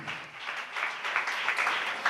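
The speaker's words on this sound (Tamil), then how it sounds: "நல்ல கைத்தட்டி கூட ஆண்டவருக்கு நம்ம நன்றி சொல்லலாமே" A church congregation claps and applauds together during a Tamil worship service, a steady mid-level patter of many hands swelling in bursts, with no talking over it.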